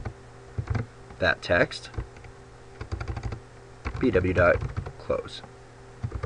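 Code is typed on a computer keyboard in quick irregular bursts of close, crisp key clicks, with a person talking quietly over parts of the typing.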